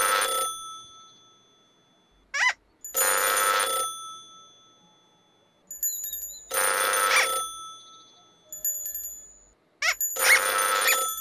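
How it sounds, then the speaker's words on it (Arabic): Bursts of telephone bell ringing, a bright electronic ring repeated in four loud, separate rings with short gaps between them, clear and close with no talk over it. "إنه الهاتف."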